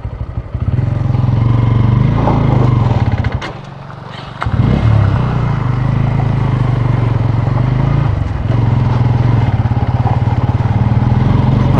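A motorcycle ridden off-road on a rough route near Haldeshwar, Siwana, chugs loudly and steadily, briefly dropping off around mid-clip before the engine picks back up, close and continuous.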